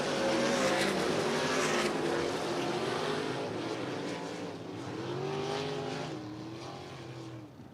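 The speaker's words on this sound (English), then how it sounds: "Checker flag will drop here in Dirt Draft Hot Lap session number 2" Race cars on a dirt track during USAC hot laps at Big Diamond Speedway, a loud continuous engine roar with rising and falling pitch as cars pass, steady and close throughout.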